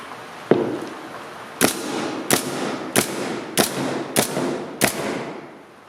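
A Freeman framing nailer fires in bump fire mode: one sharp shot, then five loud, evenly spaced pneumatic bangs, each with a short hissing tail, close by and alone.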